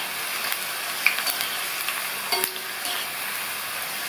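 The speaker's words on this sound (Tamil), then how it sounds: "இந்த மாதிரி பரட்டி பரட்டி போட்டு கோல்டன் ப்ரௌனாக வரணும்." Sliced snake gourd sizzling and frying in a little oil over a low flame, with steady crackle and a few scraping stirs of a spatula in the pan, no voices.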